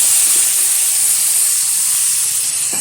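Washed goat fat sizzles loudly in hot oil with potatoes in a pan, a dense, steady bright hiss that holds without a break, close up.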